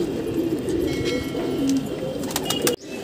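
Pigeons, a Kali Dhoom Cheena among them, give repeated low cooing calls nearby before the sound cuts off abruptly near the end.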